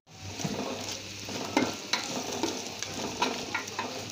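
Chili powder and turmeric sautéing in a pan for a potato biryani, a steady close sizzle broken by spoon scrapes and taps against the pan, with no voices.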